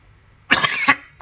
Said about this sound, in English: Bit of a cough here.